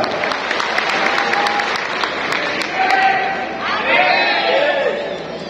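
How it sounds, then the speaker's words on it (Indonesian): Crowd claps and cheers at a political rally in Malang, Indonesia, with bursts of clapping and voices rising and falling through the ovation. "tepuk tangan untuk Dr. Gamal"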